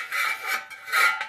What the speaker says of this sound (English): Just slides in the silencer